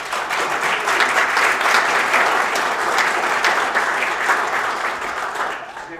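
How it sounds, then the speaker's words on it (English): A church congregation claps in sustained, even applause that holds steady for several seconds before tapering off at the end. "for their yes, we give thanks with applause"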